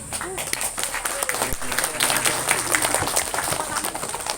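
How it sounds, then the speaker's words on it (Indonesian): Women in the audience of an Islamic religious lecture clap in a dense, scattered patter that runs throughout, with talk and crowd murmur over it in a reverberant hall. "Ini ibu-ibu tepuk tangannya nggak semangat ya."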